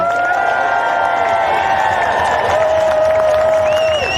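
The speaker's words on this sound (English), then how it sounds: "give our young speakers the biggest cheer we've heard all day" Outdoor crowd at a clean water march cheering loudly for young speakers, a dense continuous roar of voices with whoops and whistles riding on top throughout.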